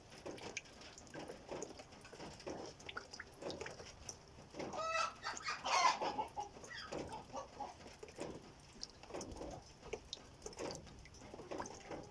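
Rahibe Fizan chickens cluck intermittently at close range while one is held for a feather trim, with a louder burst of agitated squawking midway, over background rustling and handling noise.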